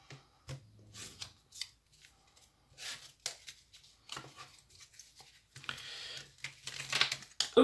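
A deck of tarot cards being cut by hand: soft papery slides and light taps come in short, separate bursts, close and fairly quiet, with no talking.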